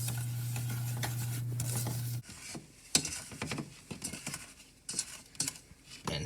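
Spoon stirring water and lemon juice together in a pan for caramel sauce, soft scraping and clinking strokes in irregular bursts, following a steady hum at the start.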